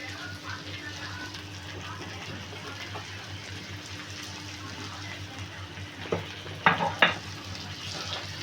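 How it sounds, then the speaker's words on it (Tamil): Onion, green chilli and curry leaves sautéing in a pan, a soft continuous sizzle with a low steady hum, punctuated near the end by a few sharp clinks of a utensil stirring, while a voice talks over it. "நல்லா வதக்கிங்க."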